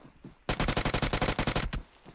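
Rapid burst of gunfire from a shotgun in the PUBG Mobile battle royale game, about a dozen loud evenly spaced shots packed into just over a second, with quieter game noise before and after.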